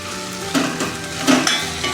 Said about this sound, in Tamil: அதெல்லாம் கிண்டி விடுங்க.